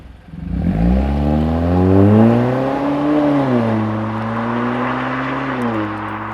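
A 2019 or later turbocharged Mazda 3 with a cat-back exhaust revs up from idle into a deep, throaty exhaust drone, rising and dipping in pitch for several seconds, loud and close.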